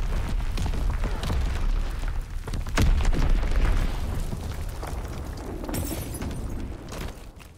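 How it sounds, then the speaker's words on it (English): An enemy bomb explodes in a Call of Duty WWII fight, a loud, close, broad boom with rumbling aftermath and scattered debris-like crackles, followed by lingering battlefield noise. No one speaks. "Enemy bomb incoming!"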